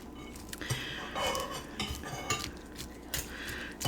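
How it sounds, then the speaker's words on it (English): Children eat pozole with metal spoons, producing steady clinks and scrapes of cutlery against bowls, moderately close with a soft background hum. "Can hear my kids chowing."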